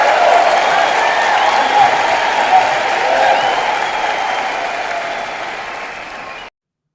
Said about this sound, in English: let's give her the amazing applause